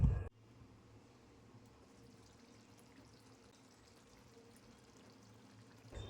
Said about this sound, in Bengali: তারপর গ্যাসের ফ্লেম লো করে 5 মিনিটের জন্য ঢাকা দিয়ে মাছ হতে দেব।